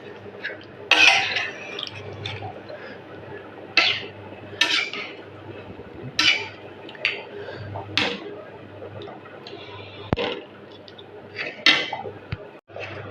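Mutton curry is packed into tiffin boxes with sharp metal clinks and taps of spoon and lid, spaced irregularly over a quiet room hum, some louder clatters standing out.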